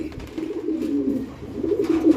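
Pigeons at a Bangladeshi pigeon market coo close by in a steady, overlapping low burble with rhythmic throaty pulses and no talk over them.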